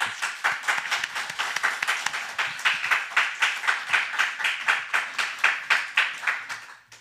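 Congregation clapping in a church during a New Year's Eve service, starting as a steady patter, then settling into a rhythmic unison beat before fading out at the end.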